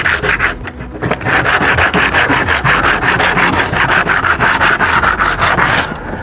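Coarse 80 grit sandpaper scrubs hard over a surface of peeling, flaky paint in fast, steady back-and-forth strokes, close and loud for about six seconds with no talking.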